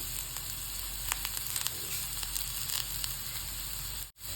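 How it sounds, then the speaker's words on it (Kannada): Sliced onions fry in hot oil in a pan for a mushroom gravy, giving a steady, close, even sizzle with faint crackles throughout. "ಈರುಳ್ಳಿ ಚೆನ್ನಾಗಿ ಫ್ರೈ ಮಾಡ್ಕೊಳ್ಳೋಣ."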